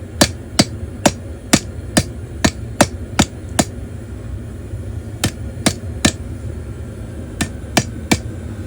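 Hammer blows on a steel hook being forged, sharp ringing metallic strikes in quick rhythmic bursts, close and loud, with a short pause midway before another run of blows.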